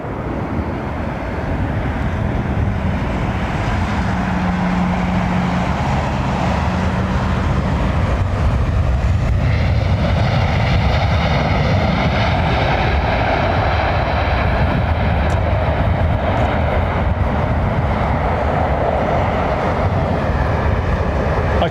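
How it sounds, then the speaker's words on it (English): A Boeing 787 Dreamliner airliner lands at London Heathrow. It makes a loud, steady jet roar that holds for over twenty seconds, with the engine tone shifting as it passes close by. "heels in for this Dreamliner"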